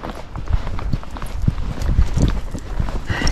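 Hooves of an Icelandic gaited horse clip-clop steadily along a trail, a close, repeated rhythmic beat of footfalls with no talk over it.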